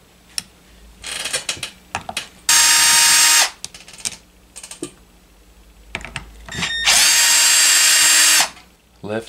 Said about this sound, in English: Remove the cutting bar with these 2 screws.